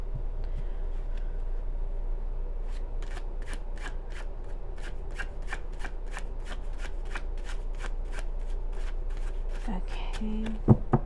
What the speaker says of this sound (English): let's go ahead and shuffle one more time